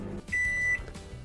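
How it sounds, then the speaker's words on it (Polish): A kitchen microwave oven, heating a cup of tea, gives one steady high electronic beep of about half a second, close and clear, with the low hum of the appliance running around it. "Mikrofalówka piszczy."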